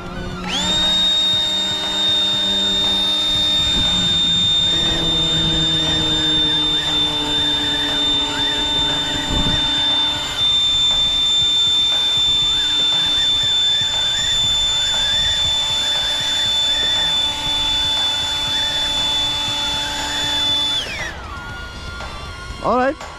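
Loud continuous blast of a handheld air blower aimed up close at a hovering DJI Neo drone, its high whine and rushing air mixed with the small drone's buzzing propellers, cutting off sharply near the end.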